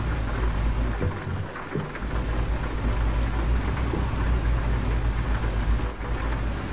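Steady heavy rain hisses on the road around a truck in Euro Truck Simulator 2, a constant wash over a low engine rumble with a few brief thumps.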